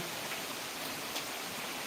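Steady rain falling in Akola, a dense even hiss of drops without pause, moderately loud and constant throughout.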